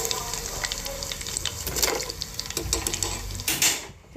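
Chicken frying in hot oil in a pan, a busy continuous sizzle and crackle with a few sharper pops and clinks of utensils, close and fairly loud.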